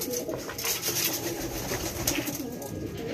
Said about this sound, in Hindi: देखिए 15 कबूतर की उड़ान है ये।